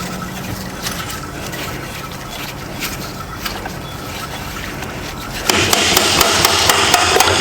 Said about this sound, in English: you gotta seize the overdrive housing, so let me grab a slide hammer